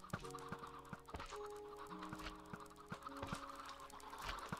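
Video game chickens cluck in a busy, overlapping flock, with many short repeated calls and sustained tones from the game's machinery, moderately loud and continuous without talk.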